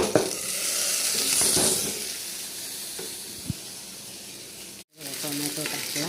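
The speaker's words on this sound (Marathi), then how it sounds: "कांदा असं छान लाल झाला की मी टाकते टोमॅटो" Chopped red onion and tomato fry in a pan for a Marathi-style bottle gourd bhaji, a loud steady sizzle with stirring scrapes; a sharp hiss of something added, a brief cut to silence, then frying resumes.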